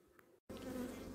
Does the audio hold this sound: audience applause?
no